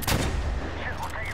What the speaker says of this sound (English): Shit, we're taking fire.